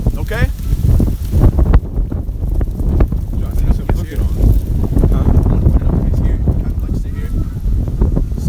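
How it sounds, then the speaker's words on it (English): Strong wind blowing outdoors at an open-air gathering, a loud continuous buffeting rush against the microphone that fills the whole stretch and swells in gusts. "it's windy out here"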